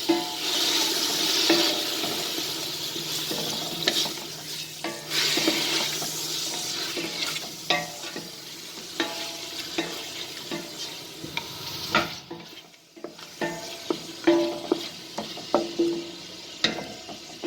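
Meat frying in a pot for vermicelli chorba soup, with intermittent sizzling and clattering stirs, uneven bursts and a brief quiet gap, with no voices.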